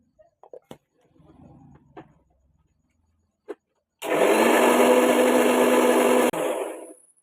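After some soft clicks and handling, a mixer grinder whirs into a loud, steady high-pitched grind, blending red beetroot with water for a few seconds before cutting off abruptly.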